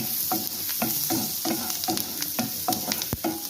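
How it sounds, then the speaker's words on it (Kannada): Chopped garlic and a long-cut green chilli fry in a pan, giving a steady close sizzle broken by regular scraping stirs of a spatula at roughly half-second intervals, no talking. "ಇವಾಗ ಇದನ್ನು ಸ್ವಲ್ಪ ಫ್ರೈ ಭಾಳ ಮಾಡ್ಕೋಬೇಡಿ, ಮೀಡಿಯಮ್ ಫ್ರೈ ಮಾಡ್ಕೋಬೇಕು"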